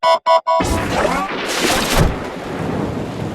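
A TV-style thunderstorm effect opens with a few quick electronic tones, then a loud thunder crash rolls into steady heavy rain.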